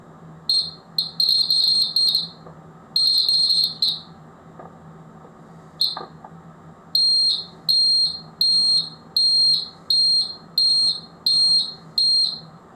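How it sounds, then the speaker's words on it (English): An electronic buzzer powered by a 9 volt battery gives a piercing high-pitched whine, first in a few irregular bursts, then in a steady series of short, evenly spaced beeps, loud and close over faint background hum. "So it is a buzzer."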